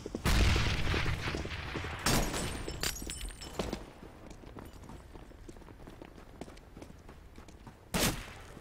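Sharp gunshots crack in Counter-Strike: Global Offensive on the Office map. A loud burst comes at the start, scattered hits and clatter follow, and a final sharp blast lands near the end.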